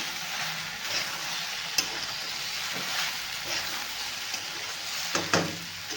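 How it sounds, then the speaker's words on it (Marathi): Okra tossed into a pan of fried onion and green chilli, sautéing with a steady, soft sizzle and a few sharp clinks of a spoon against the pan, close and moderately quiet. "आता टाकून घेऊया आपण भेंडी भेंडीला आपल्याला चांगली परतून घ्यायची आहे"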